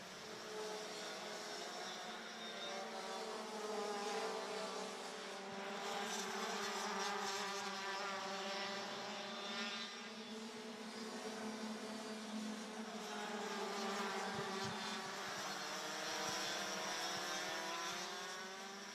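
DD2 and DD2 Masters racing karts scream around the Ostricourt circuit during a pre-final, several two-stroke engines droning and rising and falling in pitch as they pass, loud and continuous with no voices.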